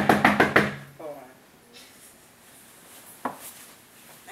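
Four loud, rapid knocks on a door sound close up at the start, followed by quiet room tone and a single faint thump later on.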